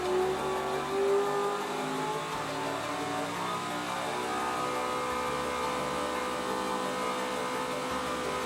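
NASCAR race engine running on a Hendrick Motorsports dynamometer, a steady loud mechanical drone with a brief rev at the start, then holding a sustained tone with slight shifts, no talk.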